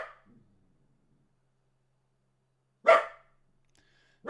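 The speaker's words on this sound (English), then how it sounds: "Over here barking." Two single dog barks separated by a long silence, the second sharp and fairly close, with another starting just as it ends.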